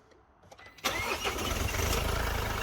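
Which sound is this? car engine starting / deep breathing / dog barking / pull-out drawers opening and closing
car engine starting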